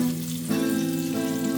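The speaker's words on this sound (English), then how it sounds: "Just gonna let them all sizzle in there for a minute." Breaded dove meat sizzles and crackles steadily in a hot frying pan, close up, with a low steady hum underneath.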